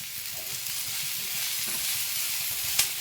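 Cumin seeds and curry leaves frying in oil for guava chutney, a continuous close hiss and sizzle with faint stirring scrapes and one sharp crackle near the end.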